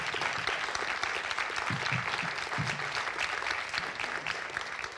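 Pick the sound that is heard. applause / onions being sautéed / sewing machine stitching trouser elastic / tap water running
applause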